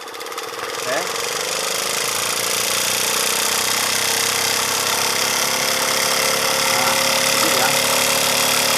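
A modified generator set runs steadily nearby, a loud, continuous engine drone with a mechanical rattle that starts up in the first second and holds without pause.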